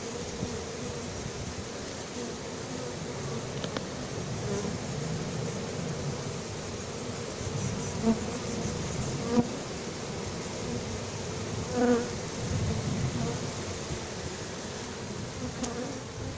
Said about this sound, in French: Ta ruche, elle a produit plein d'abeilles.